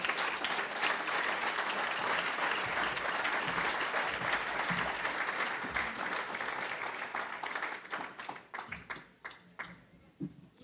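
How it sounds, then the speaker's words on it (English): Audience applause welcoming Dr. Robert Sclafani at the Hoot and Holler 2013 event, a dense sustained roomful of clapping that thins into scattered claps and fades out near the end. "Let's give a big round of applause for Dr."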